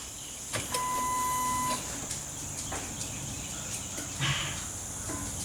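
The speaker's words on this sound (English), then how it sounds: "You will hear your fuel pump." An electric fuel pump in a Ford F150 primes after a fuel filter replacement, giving a thin, steady whir for about a second. Faint clicks and a low hum sit beneath a constant background hiss.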